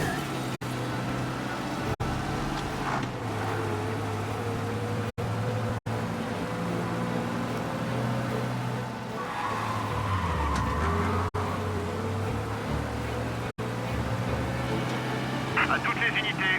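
A car accelerates while fleeing police in Mafia Definitive Edition, its engine droning steadily under game dialogue and background noise, with sharp cuts and a shifting pitch as it speeds away.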